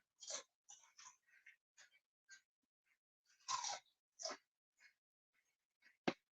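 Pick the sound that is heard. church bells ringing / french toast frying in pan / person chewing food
person chewing food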